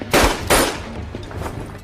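Gunshots in the Indonesian film Darah Garuda, with Dutch soldiers nearby: two sharp, loud cracks about a third of a second apart, each trailing into a ringing echo, followed by quieter rumbling.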